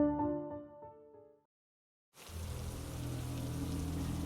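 Steady rain pours down on a rural ranch house on a summer day, a dense, loud broadband hiss that begins abruptly after a brief musical passage and a moment of silence, then continues evenly to the end.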